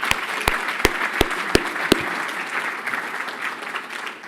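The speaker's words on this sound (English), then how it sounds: "So, huge round of applause for Cameron." An audience at a corporate awards ceremony claps steadily for a few seconds, a dense even wash of applause with a handful of sharp nearby claps standing out at the start.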